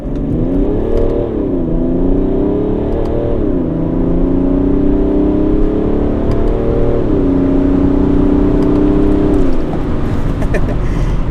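A tuned BMW 335d diesel with about 400 hp, traction control off, pulls hard through the gears on an empty road, its loud, close engine note rising in repeated sweeps with brief dips at shifts.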